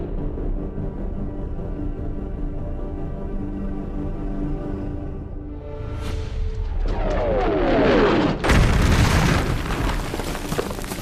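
An artillery shell explodes on a Korean War battlefield observation post, a rising rumble swelling into a loud, harsh close blast that keeps roaring, with no voices.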